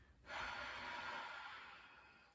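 A single long, soft exhaled breath during a gentle core exercise for abdominal separation, a faint, airy whoosh lasting about two seconds and fading slowly, close and quiet.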